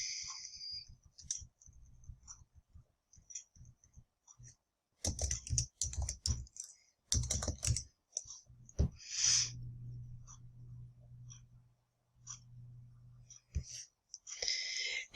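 A computer mouse and keyboard click and tap at close range while student details are entered, in irregular bursts of sharp, quiet clicks with short pauses.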